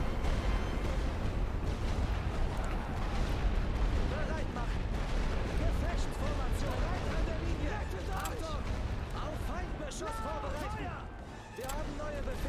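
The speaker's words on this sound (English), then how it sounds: "Hopefully with them grouped together so close, I could do some serious damage with heavy artillery." Heavy artillery barrage in The Great War: Western Front, a dense continuous roar of booms and rumbling blasts filling the whole stretch, loud and unbroken, with chirping battlefield effects layered on top.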